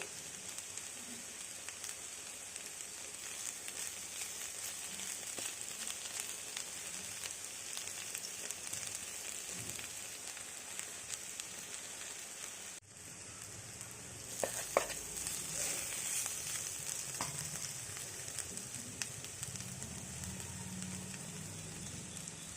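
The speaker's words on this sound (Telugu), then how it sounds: "అల్లం వెల్లుల్లి, జాక్ ఫ్రూట్ సీడ్స్, ఉల్లిపాయ ముక్కలన్నీ ఫ్రై అవుతున్నాయి కదా" Ginger, garlic, jackfruit seeds and onion pieces fry in a pan for a jackfruit seed and drumstick curry, giving a steady, even sizzle throughout with a brief clatter midway and no talking.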